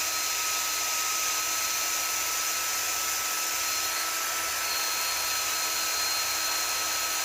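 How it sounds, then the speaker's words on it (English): A brass wire wheel strips carbon and old oil buildup off a hardened steel valve from a Dodge 360 LA roller cam engine head, giving a loud, continuous hissing whine that holds steady throughout. "I'm using a brass wire wheel on hardened steel"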